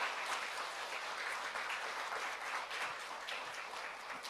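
A large audience at a forum session on art and resistance to violence claps steadily and densely throughout, a sustained wash of hands with no voices standing out.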